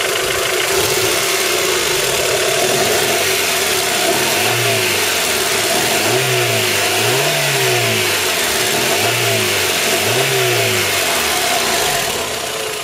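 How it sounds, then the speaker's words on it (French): A Honda Prelude 2.2 VTEC 4WS engine starts and runs loud and close, rising and falling through several rev cycles in a steady rhythm. "J'ai actionné le démarreur, accélérateur."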